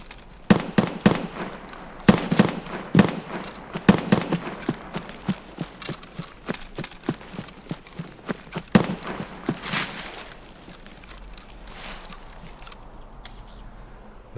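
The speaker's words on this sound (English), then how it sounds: "But there is still shooting going on" Gunfire rattles in Escape from Tarkov, a dense run of sharp cracks and pops from mid distance over several seconds, thinning out into scattered shots and a low rumbling background.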